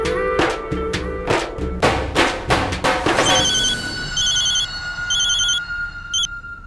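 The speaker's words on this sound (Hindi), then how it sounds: "टीशा को कॉल लगाती हूँ।" Telephone ringing as a call is placed, a loud repeating electronic ring tone that follows a run of heavy thumps and then sustains with steady pulsing beeps.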